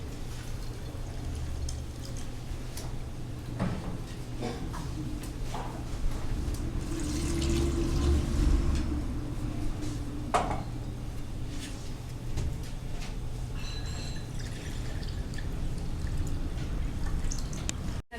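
Water pours steadily into a soup pot during a vegetable soup cooking class, a continuous liquid rush with drips and small clatters, fairly close and unaccompanied by talk.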